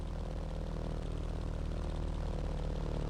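A Dynam Primo RC model airplane buzzes steadily overhead in flight, its small electric motor and propeller producing a constant, even whine with no pauses or voices.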